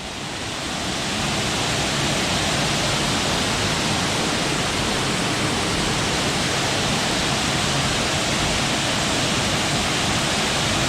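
Dog Slaughter Falls pours in a dense, steady roar of falling water from fairly close by. The sound fills the whole clip without a break, and no voices are heard.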